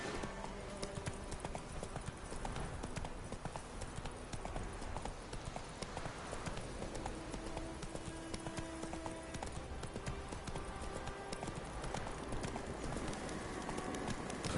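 Roach, a horse in The Witcher 3, gallops with continuous rhythmic clip-clop hooves over a dense game soundscape, the hoofbeats steady and prominent across the whole stretch.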